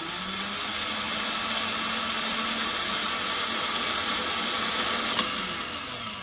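Starter motor from a 2004 Nissan Quest 3.5 V6, removed from the vehicle and spinning on its own with an intermittent no-crank fault, a loud steady whirring drone with a faint rattle, one sharp knock near the end.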